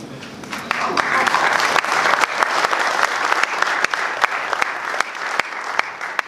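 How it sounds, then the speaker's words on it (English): Resort audience in Dominica clapping at a hotel event on the eve of independence, a loud, dense round of applause with sharp individual claps standing out across the whole stretch. "so as much applause as possible."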